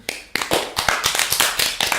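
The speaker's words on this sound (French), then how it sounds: "Je m'applaudis moi-même." A single person clapping their own hands in applause, a series of about nine sharp, close claps in an uneven rhythm, with no talk over them.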